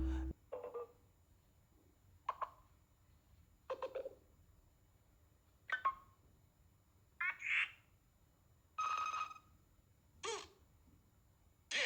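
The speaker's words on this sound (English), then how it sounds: "we've gotten a new pack for the Glyph notification tones too" A series of short electronic notification tones from a Nothing phone's Glyph sound pack, about eight separate chirps and blips spaced roughly a second or two apart, played alone over a quiet background.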